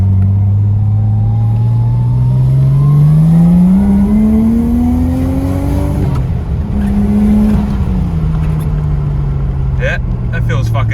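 A Nissan 180SX or R32 sports car on a wet road accelerates hard, its engine rising steadily in pitch through one long pull, dipping at a gear change and pulling again, loud and close from inside the car.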